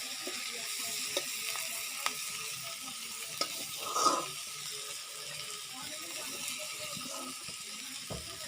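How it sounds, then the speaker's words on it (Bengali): Spice mixture with onions being sautéed and stirred in a pan, a steady close sizzle broken by occasional spoon taps and one brief louder scrape, no voices. "এখন মশলাটা কষাইতেছি"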